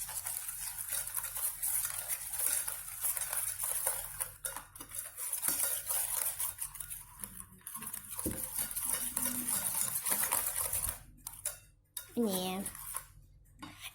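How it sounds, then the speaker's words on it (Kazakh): An egg, butter and sugar batter for a lemon pie being stirred in a bowl: continuous close scraping and clinking of a utensil against the bowl with some brief breaks, while someone talks over it. "Оның үстіне қант саламыз. Тағы да жақсылап араластырамыз."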